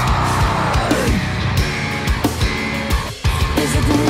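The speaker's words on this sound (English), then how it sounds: "Lovely pingy sound of that bass." A bright, twangy bass guitar line plucked in a punchy rhythm, loud and up front within a full band mix with drums, from a metal song.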